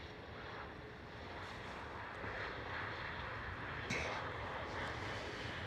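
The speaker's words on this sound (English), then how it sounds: "Next one up is a KLM Cityhopper E190, it looks like." A KLM Cityhopper Embraer E190 gives off a faint, steady jet rumble at Schiphol, distant and washed with broadband noise, with a brief bump near the end.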